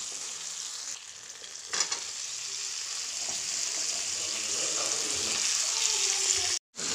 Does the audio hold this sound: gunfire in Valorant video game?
no